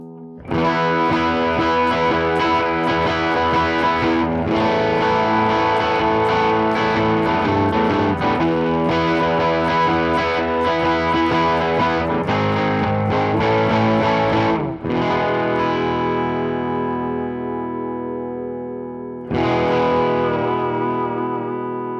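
Vintage Gretsch electric guitar with reverb switched on, played in a continuous stretch of driven chords and single notes that hang in a wash of echo, then a pause before a final strummed chord rings out and fades.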